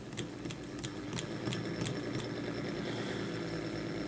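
A hand-spun coil core generator whirs steadily with a mid-pitched mechanical hum and light rattle, faint and continuous, with periodic ticks as it turns and no one talking.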